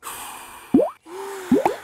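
Cartoon bubbles being blown in a Peppa Pig episode, with bright bubbly plops and a rising whistle-like tone between them, close and clear with no talking.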